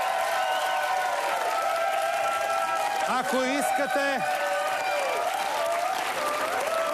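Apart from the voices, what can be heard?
studio audience applause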